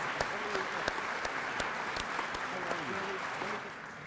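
A banquet-hall audience at an Albanian independence centennial luncheon in Washington applauds honored guests, a steady wash of many hands clapping with a few sharper claps standing out, continuing throughout with faint voices beneath.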